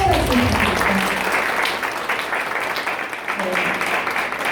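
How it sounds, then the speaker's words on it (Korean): Congratulatory applause at a company New Year meeting for an employee's promotion; a room of colleagues claps steadily, with brief voices underneath and a slight dip midway. "축하의 박수 부탁드립니다."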